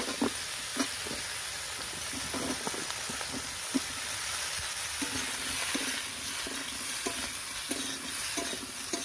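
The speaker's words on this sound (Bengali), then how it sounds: "ওই তেলে ঝিঙ্গাগুলো হালকা করে ভেজে নেব।" Ridge gourd pieces fry lightly in oil, a steady close sizzle and hiss running throughout with soft intermittent stirring scrapes and clicks, no voices.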